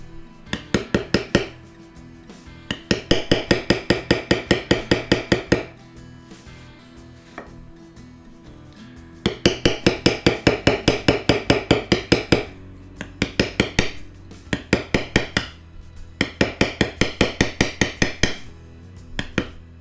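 A metal leather stamping tool struck repeatedly with a mallet while beveling leather, close and crisp, in fast rhythmic runs of taps separated by short pauses.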